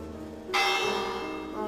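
A bell in a video game strikes once with a loud, bright, ringing tone and then a long sustained hum, with a lighter second tap near the end and no talking.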